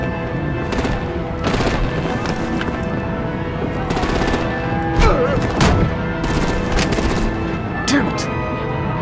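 Heavy automatic gunfire and artillery rattle almost nonstop in a Telltale Batman game scene, dense bursts of shots up close with a constant battle din beneath, while voices speak over the fighting.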